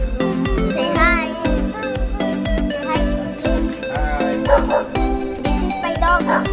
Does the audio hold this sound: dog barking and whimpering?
yes